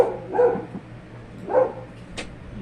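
A dog barks twice, about a second apart, each a short, moderately loud burst close by, followed by a brief sharp click against a quiet background.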